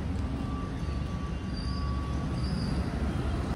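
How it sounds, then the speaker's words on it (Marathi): A metal rolling shutter being pulled down at a shop front, a continuous rattling, grinding metallic rumble close by, steady and moderately loud, with a faint squeal running through it. "शटर बंद करता मैं."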